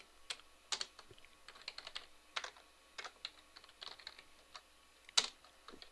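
Crisp keystrokes clatter on a nearby computer keyboard as MySQL code is entered, coming in irregular bursts of quick taps with a few louder strikes and no voice.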